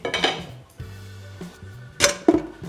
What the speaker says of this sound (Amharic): መጥበሻ እንቀይራለን።